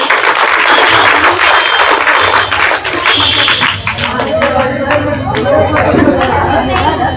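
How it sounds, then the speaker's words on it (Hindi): A school audience at a road-safety event applauding, with dense loud clapping from a crowd mixed with chatter and voices, the clapping thinning out into murmuring partway through. "ताली बुलंदी से बजे।"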